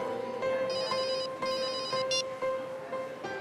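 A phone ringtone plays loud and close, a bright electronic melody repeating its pattern steadily with no voices over it.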